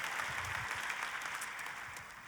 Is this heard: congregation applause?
yes